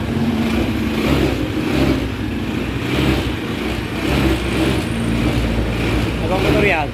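A Honda Beat motorcycle with a suspected battery problem idles nearby in a constant, loud engine drone, while people talk over it.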